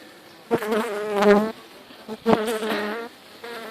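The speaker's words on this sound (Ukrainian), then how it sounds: "ну тут трошки висять бджілки" Honeybees buzz at a hive in an apiary, loud close bursts of droning hum that swell and fade, with a quieter steady buzz between.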